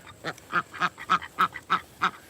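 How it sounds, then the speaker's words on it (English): Ducks quack after a storm, a steady series of about eight loud, close calls spaced evenly at a brisk rhythm, standing alone without talk. "See the ducks?"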